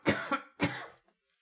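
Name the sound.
cough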